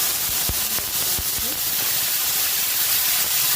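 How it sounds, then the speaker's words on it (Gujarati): A spoonful of cumin seeds hits hot oil for a yam and paneer curry, bursting into a loud, steady sizzling hiss with a few sharp pops near the start. "હવે તેમાં આપણે એક ચમચી જીરું એડ કરવાનું છે"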